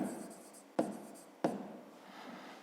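A pen writes out a fifth-grade maths solution on paper with close, scratchy strokes. Two sharp taps of the pen land on the page partway through.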